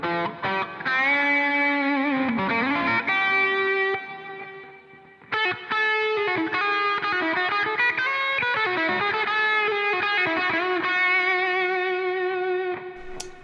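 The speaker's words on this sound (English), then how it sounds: "So as opposed to the green overdrive there is a slightly softer distortion." An electric guitar plays through an overdrive pedal with a softer, smoother distortion. Loud sustained chords and ringing single notes come through clearly on their own, with no voices.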